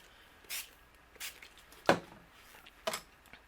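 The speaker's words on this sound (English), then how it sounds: "I'm going to take my spray bottle and spray my flower." Four short, sharp sprays of water from a spray bottle hiss out one after another onto a watercolor painting, separated by brief pauses, close and fairly quiet.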